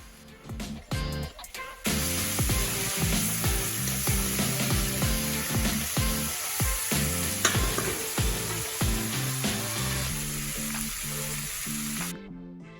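Tofu and vegetables stir-frying in a wok make a loud, steady sizzle with stirring clatter, and music plays underneath throughout.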